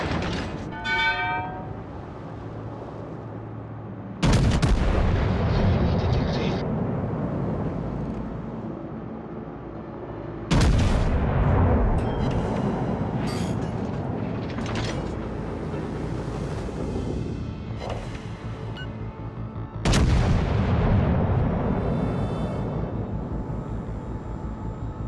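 Heavy naval gunfire from warships in the World of Warships: Legends game, three loud booming broadside salvos roughly six to ten seconds apart, each rolling into a long rumbling tail beneath a low, continuous background drone.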